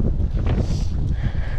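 Strong wind buffets the microphone on an outdoor park trail in Ohio's Prairie Oaks Metro Park, a steady low roar with faint rustling throughout.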